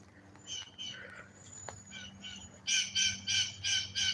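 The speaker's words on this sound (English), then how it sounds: "they start chirping. Hey, birdies." Birds chirping and squawking in trees during a cold morning dog walk, with a robin among them; a few scattered calls early, then a loud run of repeated chirps near the end, close by.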